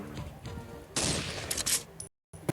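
Gunfire in a Minecraft PE shooting game, a dense burst of rapid shots over game sounds, cutting briefly to silence before a final shot.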